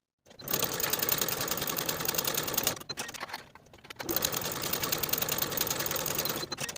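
A sewing machine stitches the shoulder seams of a 1940s-style blouse at a 5/8 inch allowance, whirring loud and close in one long run, dipping briefly near the middle and then resuming steadily, with no speech.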